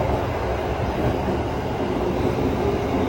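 An Indonesian train rolls past with a steady low rumble and soft rattling, continuous and moderately loud throughout.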